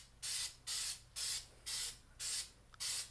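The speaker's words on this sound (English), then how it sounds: "I'm just going to use some goof off and just spray that" Goof Off cleaner is sprayed onto a car in six short, even bursts, each a crisp close-up hiss from an aerosol can, separated by brief pauses.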